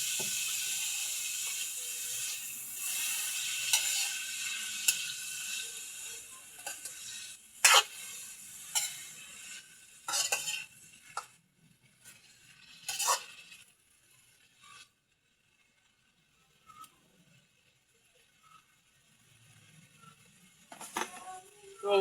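Bitter gourd (ampalaya) being stirred in a frying pan, soft sizzling under a handful of sharp scraping clacks of the utensil against the pan, spaced irregularly with quieter stretches between.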